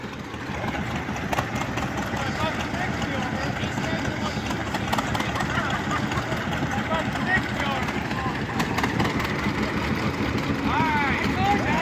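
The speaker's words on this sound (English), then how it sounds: "are the big tractor races here at the Niagara County Fair." Racing tractor engines at the big tractor races of the Niagara County Fair, including a John Deere, roar and scream in a loud, continuous outdoor din, with crowd noise and voices mixed in underneath.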